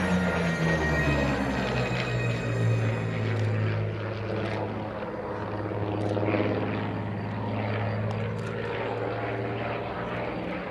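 A Mark 5 fighter plane, a British-engined Spitfire-style warbird, flies overhead at an air show, its smooth, muffled propeller engine droning steadily with a gentle swell as it passes.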